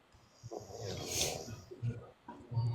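A person snores, with several rough, rasping inhalations and a breathy whistling swell in between, fairly close and moderately loud.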